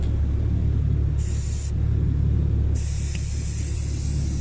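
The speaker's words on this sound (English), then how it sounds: "the can is spraying in the car" An STP aerosol air-conditioner cleaner sprays inside a car. Hissing bursts start and stop over a constant low engine rumble: first a short spray, then a longer one that keeps going to the end.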